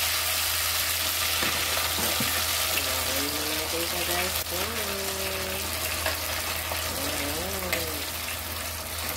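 Pig ear and snout fry in oil for Ilocano dinakdakan, a steady broad sizzle running beneath a person talking throughout, with a few knocks.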